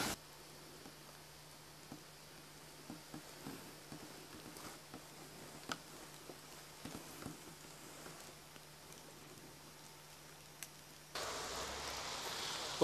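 Rain falling on a forest hiking trail, a faint, steady patter with scattered drop ticks under a low hum, turning to a louder, denser hiss near the end.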